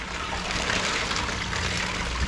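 Water pours steadily into an aquarium, a continuous close rushing and splashing with no talking.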